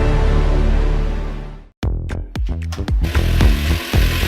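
A cordless Axi power tool with switch technology runs loudly for about a second and a half, then cuts out briefly before a series of short, punchy bursts and revs follow.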